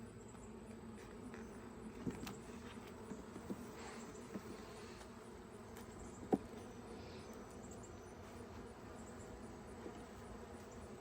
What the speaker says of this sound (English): With a bunch of bees.